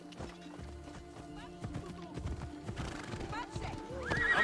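Horse galloping and neighing in the Assassin's Creed Odyssey video game: rhythmic hoof clip-clops under a rider's shouted speech, with a shrill whinny near the end over game music.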